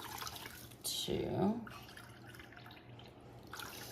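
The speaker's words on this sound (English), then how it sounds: "I'm gonna add 3 cups of water" Water poured from a cup into a pot of uncooked rice, a short close splash lasting about a second with speech before and after.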